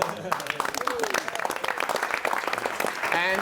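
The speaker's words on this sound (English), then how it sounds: "A round of applause." An audience at a press conference for an action film breaks into brief, lively applause, heard close and mixed with voices and cheers.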